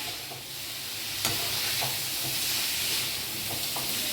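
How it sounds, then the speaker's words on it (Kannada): Ingredients for a radish chutney are stirred and dry-roasted in a pan, a steady faint sizzle and hiss broken by a few soft scrapes and taps of the spatula. "ನೋಡಿ ಹೀಗೆ ಹುರಿತಾ ಇರಬೇಕು, ಸೀಸ್ಬಾರ್ದು ಕೆಳಗಡೆ"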